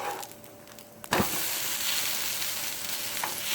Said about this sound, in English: Now I'm going to flip the dosa.